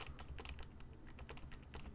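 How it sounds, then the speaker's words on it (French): Computer keyboard keys clack in a fast, steady run of quiet taps at close range, with no voice present. "en appuyant ici sur entrée sur le clavier"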